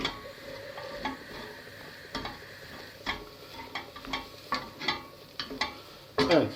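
Mushrooms and flour cook in a pot under a soft sizzle while a spoon stirs them, giving a run of irregular scraping taps and knocks against the pot, close and fairly quiet, ending with a louder clatter.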